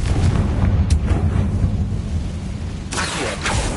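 A Confringo spell explosion in Hogwarts Legacy, a loud, sustained rumbling blast with a further burst of crackle near the end, heard without talk.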